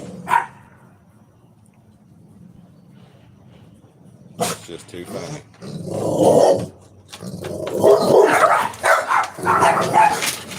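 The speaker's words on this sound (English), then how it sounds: "Neighbor dogs, they're awake. They got my dogs awake now." Neighbourhood dogs barking in the morning, with sharp outbursts and growly yaps coming in bursts between quieter stretches, partly mixed with a person talking nearby.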